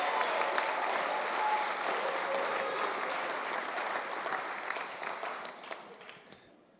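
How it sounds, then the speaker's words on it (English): An audience at a YMCA annual celebration applauds volunteer awardees: dense, sustained clapping from a large crowd that stays strong, then thins and fades out near the end. "Let's give it some more applause to our awardees tonight, yeah?"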